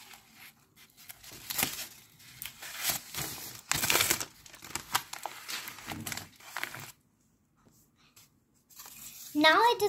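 Newspaper is rolled tightly around a pencil, crinkling and rustling in uneven bursts close to the microphone, with a short pause of near silence before a final sharp crinkle.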